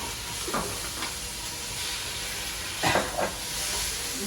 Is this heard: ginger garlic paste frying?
yes